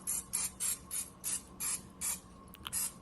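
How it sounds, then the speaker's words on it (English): Cooking spray hissed onto a cooking tray in nine or ten short, evenly spaced bursts, close and crisp, with a faint click near the end. "we are going to spray our cooking tray with cooking spray"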